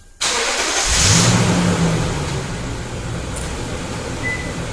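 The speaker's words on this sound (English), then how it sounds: "This will trigger remote starting." A 2008-2010 Toyota Tundra starts by remote: the starter cranks briefly, then the engine catches with a loud rev that settles into a steady, close idle rumble for the rest of the clip.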